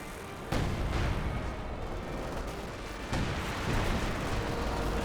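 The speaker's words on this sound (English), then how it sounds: "it's probably max range barrage hitting the tier 2" An artillery barrage in Company of Heroes 2 at maximum range: two heavy booming impacts land about two and a half seconds apart, each leaving a dense rumbling roar that sustains underneath, loud and close.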